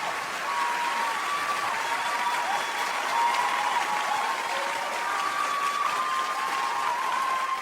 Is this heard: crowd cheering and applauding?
yes